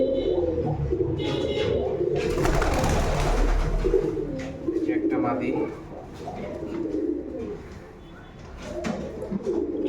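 Rajshahi Giribaz pigeons coo in a loft, soft repeated throaty calls running beneath someone talking nearby, with a brief rustling burst partway through.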